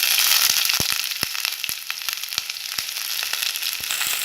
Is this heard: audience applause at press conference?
no